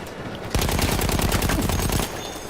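A single rapid burst of automatic gunfire from a fast-firing weapon in the video game Battlefield 1, loud and close, lasting about a second and a half, with no talking.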